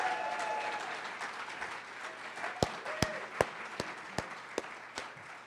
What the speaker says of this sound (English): Let's have a round of applause for Kit Evans Ford.